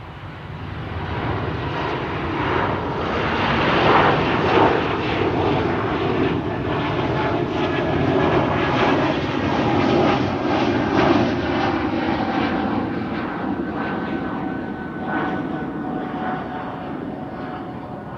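An Embraer 195-E2 jet rolls along runway 09 at Amsterdam Schiphol, its engines giving a steady, sustained roar that swells gently and holds at moderate distance for the whole stretch, with no voices over it.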